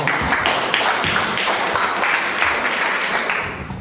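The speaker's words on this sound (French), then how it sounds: "Et on peut encore applaudir" Audience applause fills the room after a talk on ethics: loud, dense clapping from a crowd close by, sustained and even before gradually tapering off at the end.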